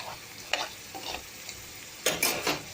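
A soft steady sizzle of ginger garlic paste frying with onion in a pan, broken by a few scraping stirs of a spoon, close and without talk.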